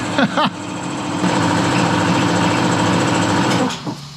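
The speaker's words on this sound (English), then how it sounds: "just wait for this compressor to turn off." An air compressor runs steadily in a workshop, a loud continuous motor drone with a couple of short clunks at the start before it winds down at the end.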